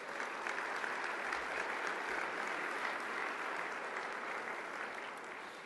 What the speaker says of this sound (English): Let's give Peter and the team a big round of applause.